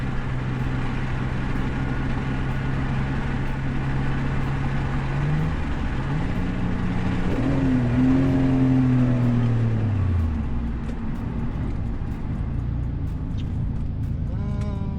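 A Mitsubishi 3000GT fitted with a twin-disc clutch drives along with a steady engine hum, then revs and shifts midway, the pitch climbing and falling as it pulls away, with no talk over it.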